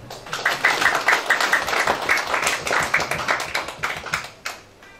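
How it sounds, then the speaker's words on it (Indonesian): Audience clapping at a Maulid Nabi commemoration gathering, a steady patter of many hands for about five seconds, moderately loud with a light, tapping texture. "tepuk tangan, Mbak"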